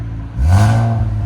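Infiniti Q60 with a 3.0L twin-turbo V6 and aftermarket exhaust revs once, a loud close burst of engine roar rising sharply and holding to the end.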